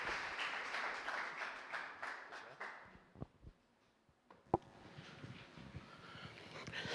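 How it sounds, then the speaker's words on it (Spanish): Congregation applause for Jesus Christ during a church service, a soft, somewhat distant clapping that thins out midway, leaving a few scattered claps before the room noise returns. "Vamos a dar un fuerte aplauso a nuestro Señor Jesucristo"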